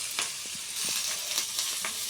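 Freshly ground masala from a mixer jar hits hot oil in a frying pan for a chickpea and pea sambar, giving a steady close sizzle with brief crackling pops and faint stirring.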